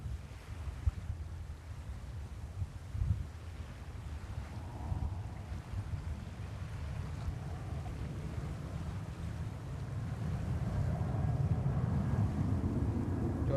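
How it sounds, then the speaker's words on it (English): Strong wind gusts at JFK Airport in New York buffet the microphone with a continuous low rumble, swelling louder toward the end, with a faint engine-like drone and no voices. "Some crazy wind gusts too."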